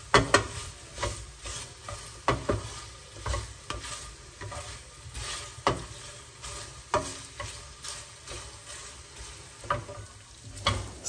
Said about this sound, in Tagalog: hinalo-halo ko lang to ng mabuti para talagang mag-produce ng sariling mantika